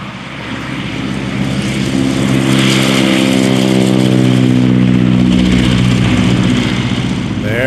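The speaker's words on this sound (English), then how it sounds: "sightseeing flights depart around every 20 minutes, taking up to 4 paying passengers aloft in this open cockpit 1929 New Standard D-25 biplane" A 1929 New Standard D-25 open-cockpit biplane on a sightseeing flight roars nearby as it departs the aerodrome, its propeller engine droning loud and steady and rising in pitch without a break.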